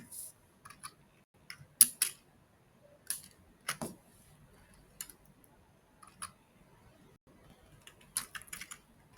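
Keys tapped on a computer keyboard while text is typed onto a new page, scattered clusters of light clicks with pauses between them, fairly close and quiet.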